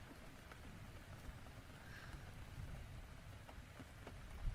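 Steady rain falls in a continuous, soft hiss with scattered drop taps, heard alone at a moderate, even level throughout.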